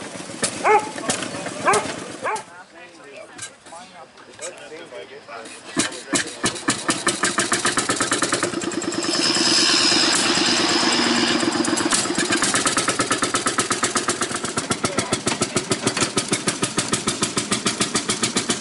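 A narrow gauge rail speeder at Robertsdale on the East Broad Top starts up and settles into a loud, steady, rhythmic engine chug close by, with a voice talking early on.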